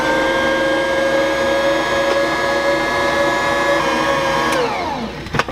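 An electric stand mixer kneading cinnamon roll bread dough, a loud steady motor whine with a constant hum that drops in pitch and winds down near the end, then a couple of soft knocks.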